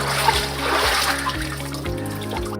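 Water running from a household faucet, a steady splashing stream close by, with a low tonal hum underneath and no speech.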